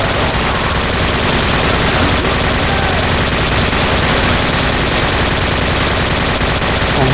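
Continuous heavy automatic gunfire from the Call of Duty 4: Modern Warfare video game, loud and relentless with no break, dense with overlapping shots.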